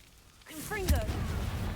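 A Confringo spell cast in the Hogwarts Legacy video game bursts with a rising fiery whoosh and a sharp low thump, followed by a sustained rumbling blast that carries on to the end.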